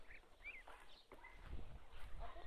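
Ducks at a village farmstead give a few faint, scattered quacks against low background rumble and shuffling, heard from nearby but quietly.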